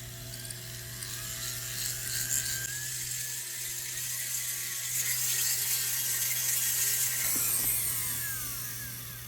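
A Foredom flexible-shaft rotary tool polishing a rock, giving a steady high-pitched whir with a faint grinding edge that runs the whole time, loud and close with no talking.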